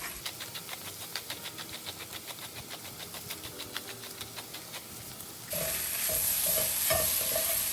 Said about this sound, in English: as the bacon fat is rendering out, the mushroom is also kind of absorbing the fat here